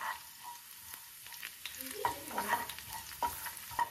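Garlic sautéing in olive oil over low heat, a soft crackle with light stirring scrapes and a few sharper ticks from a spoon against the pan, close and fairly quiet with no talking.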